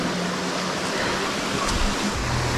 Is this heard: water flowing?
yes